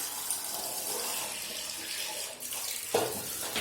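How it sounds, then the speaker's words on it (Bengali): Tap water runs steadily into a pot to boil eggs, a continuous close splashing hiss that shifts in tone near the end. "দেখো জল নিয়ে নিয়েছি"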